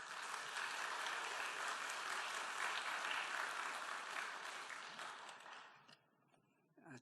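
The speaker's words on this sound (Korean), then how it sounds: "나오실 때 큰 박수로 환영하겠습니다" A church congregation in Daejeon gives loud, sustained applause at a Sunday morning service to welcome the preacher to the pulpit, holding steady for about six seconds before tapering off, with a few scattered claps at the end.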